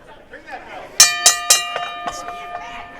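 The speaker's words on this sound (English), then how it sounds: "you were ringing the bell" Metal ring bell at a wrestling event struck three sharp, ringing times in quick succession, then several softer follow-up dings, with a voice talking faintly underneath.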